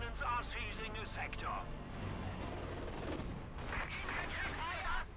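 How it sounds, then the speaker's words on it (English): Light machine gun fire in the strategy game Company of Heroes 2, with bursts of rattling shots and distant explosions in a busy battle mix beneath a caster's continuous commentary. "We do get some light machine guns there for Angreifen's Grenadiers"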